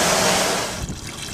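Water rushes and splashes through a poly bulk exhaust fan filter during a wash-through, a loud, steady hiss that tapers off into softer trickling within about a second.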